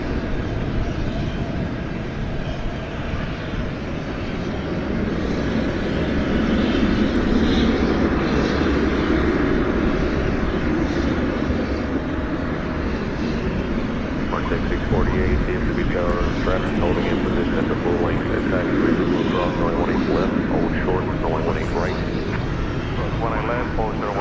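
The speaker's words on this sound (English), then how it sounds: "Another Frontier aircraft coming in with Cortez the Green Turtle on its tail. That's an Airbus A320neo." Frontier Airbus A320neo arriving at DFW airport at night, a distant jet roar that builds and holds as a broad steady rush, with someone talking over it.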